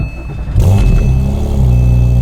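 Porsche 997 Turbo engine cranking over and catching, then settling into a deep, loud, steady rumbling idle close by, with no voices over it.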